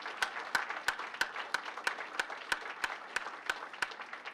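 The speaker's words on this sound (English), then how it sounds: "Give yourselves a round of applause for that." An audience at a NASA event applauds steadily in a warm, continuous wash of clapping, sustained for several seconds with no voices over it.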